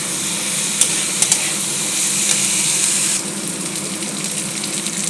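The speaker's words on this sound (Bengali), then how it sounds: "লাল করব না, আমি কম আঁচ দিয়ে হালকা করে ভাজি করে নেব।" Vegetables fry lightly over low heat, a steady hissing sizzle with a few faint clicks of stirring, dropping a little in level partway through, with no voices.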